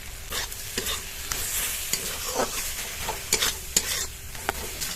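Tomato and garlic bharta with chopped coriander stirred in a pan, scraping spoon strokes and soft sizzling coming in irregular bursts, close and moderately loud.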